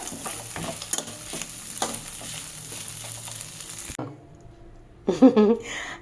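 Poha upma with roasted peanuts being stirred in a pan, a scraping, sizzling stir heard up close for several seconds before a brief pause and a louder burst of spoon scraping near the end.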